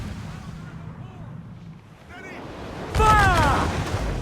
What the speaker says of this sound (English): Enemies firing!